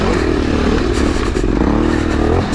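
Aprilia 450 MXV twin-cylinder four-stroke off-road motorcycle engine running on a light, steady throttle, a continuous loud close burble with crackling pulses and no speech.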